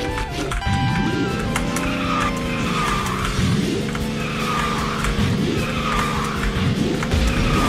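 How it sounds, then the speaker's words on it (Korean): Lapis Z7 kart drifting in KartRider, a continuous loud engine drone with long tire-skid squeals rising and falling in repeated swoops across the run. "이 차가 되게 좀 드리프트 할 때 묵직해요 차가."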